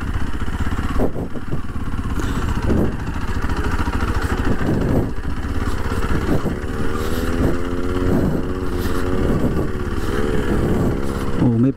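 A Kawasaki KLX 230 motorcycle rides a dirt trail at Hungry Valley near Gorman, California, its engine droning loud and steady with revs rising and falling, heard up close while the rider talks over it.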